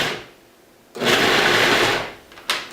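A food processor pulses a batch of romesco sauce ingredients, a loud whirring burst of about one and a half seconds after a quiet start, followed by a second shorter pulse near the end.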